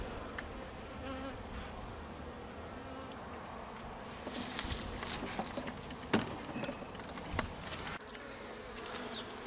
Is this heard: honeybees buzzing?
yes